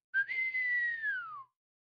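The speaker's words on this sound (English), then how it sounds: "to his team gave a whistle" A single long whistle rises sharply, then holds steady and slowly falls away over about a second and a half, clear and alone, given as a sound effect during a reading of a Christmas poem.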